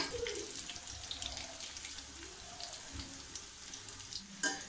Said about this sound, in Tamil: இதை வந்து நீங்க லோ ஹீட்லயே வச்சு ஃப்ரை பண்ணுங்க.